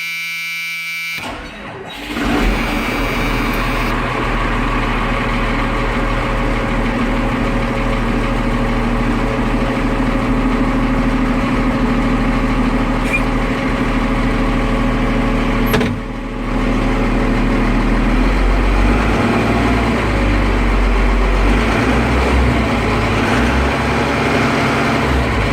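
A White tractor's engine cranks and catches, then idles steadily and loud for a long stretch, with a brief dip midway and a faint buzzing tone over the rumble.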